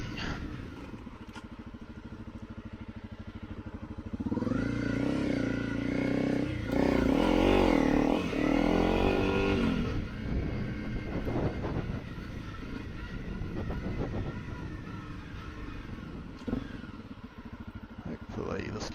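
A Honda CRF250L Rally motorcycle engine idles and rumbles, then swells louder mid-clip as the bike is ridden and turned around on a trail, with someone talking over the steady motor throughout.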